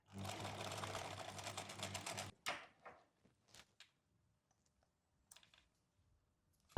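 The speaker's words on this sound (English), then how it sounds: "I'm going a few stitches further so the stitches don't open up." A sewing machine stitches a scrunchie seam in a close, steady whirring run of rapid stitches for about two seconds, then stops, followed by a few faint handling clicks and near silence.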